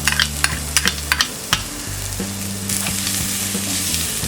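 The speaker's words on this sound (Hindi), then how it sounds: "पैन में डालेंगे ये 1 teaspoon crushed garlic, spring onions की ये अनियन है वाइट," Crushed garlic and white spring onion sizzle steadily in a non-stick pan for a zero-oil masala Maggi, with sharp clicks and stirring scrapes over a continuous frying hiss.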